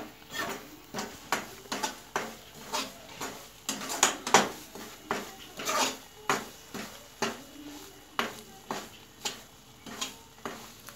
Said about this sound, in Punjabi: ਆਪਣੀ ਸੂਜੀ ਭੁੱਜ ਰਹੀ ਹੈ।